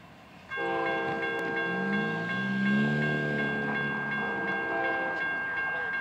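Amtrak train 92 passing at night in Plant City, Florida, led by a single 50th anniversary heritage unit engine: after a brief quiet moment, a loud, steady multi-tone horn blast sounds for several seconds over rumbling wheels.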